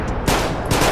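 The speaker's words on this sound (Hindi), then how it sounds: "गोलियां चलाते रहो, रुकनी नहीं चाहिए, मारते रहो इसे" Rapid automatic gunfire in a video game clock tower battle comes as two loud, dense bursts of shots within a second, with no speech.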